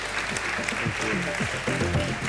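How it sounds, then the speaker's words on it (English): An audience gives a round of applause for the panel after a talk on art and AI, a close, steady patter of clapping with a voice speaking over it. "give a massive round of applause to the panel"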